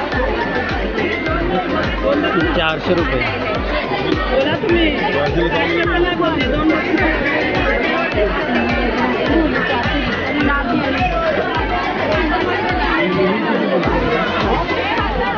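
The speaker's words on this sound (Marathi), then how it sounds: "आज गर्दी पण भरपूर आहे।" Dense crowd chatter at the busy Malad wholesale fish market in Mumbai on a rainy day, with a constant babble of many nearby voices and a talker close by throughout.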